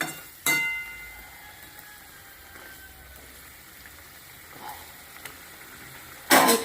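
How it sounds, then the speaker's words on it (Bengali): Fish dropped into a simmering curry in a pan gives a sharp burst of sizzling, then a steady low hiss with faint bubbling, ending in another loud splash of frying. "এই যে মাছ দিয়ে দিলাম ভালো করে ঝোলটা ঢুকে যায় মাছটার ভিতরে"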